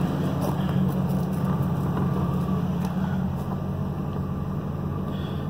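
A 2000 Ford F250 engine idles steadily just after being primed and started, a continuous low rumble held at an even level throughout.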